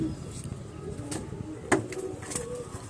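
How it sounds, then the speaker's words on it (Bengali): A female pigeon gives a few soft coos close by over a noisy background, with a voice talking. "এই যে দেখুন পায়রাটা, আমি চালে ছেড়ে দেখাচ্ছি"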